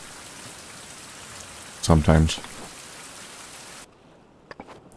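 Rainfall in a survival video game, a steady soft hiss that carries on evenly beneath a short burst of speech, then drops away sharply near the end, leaving only faint scattered sounds.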